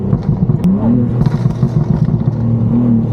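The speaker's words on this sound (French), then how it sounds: "Écoute le bruit de la caisse mec" A BMW M2 with a heavily modified engine revs hard, its deep rumble rising and falling in several close, loud pulls with some mechanical clatter and no talk over it.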